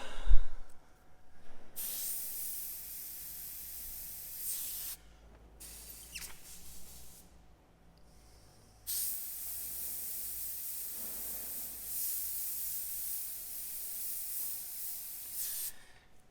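Airbrush spraying paint onto a panel through a skull template, bursts of steady soft hiss lasting several seconds each, separated by short gaps, near and moderately quiet with no speech.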